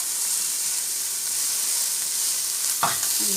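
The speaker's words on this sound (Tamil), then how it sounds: "இப்போ நம்ம மேலே கீழேயுமே நல்லா கிளறி விட்டுக்கலாம்." Peanut sundal being stirred up and down in a pan, with a loud, steady sizzle close up and a single clank of the spoon against the pan near the end; no speech.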